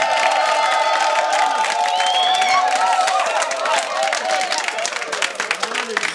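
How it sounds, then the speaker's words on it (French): A studio audience applauds and cheers loudly and steadily at the start of a French TV show, dense clapping with whoops and a voice talking over the crowd noise. "ça peut s'applaudir bien"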